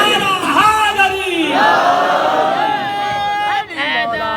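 At a Shia majlis in London, a crowd bellows a chanted reply to a slogan, loud massed voices rising together alongside a leading voice, with babble in between.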